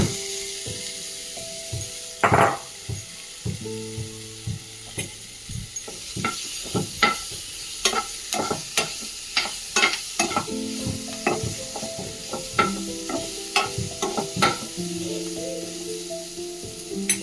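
A capsicum, onion and tomato mix cooks in a pan with a low sizzle, broken by repeated sharp scraping and tapping stirs of a spoon against the pan, close and unaccompanied by speech.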